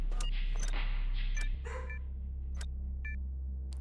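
Dog barking in the SWAT 4 video game during an Italian Mafia hostage mission; several short, sharp barks and yelps come in bursts over a low steady hum, somewhat distant.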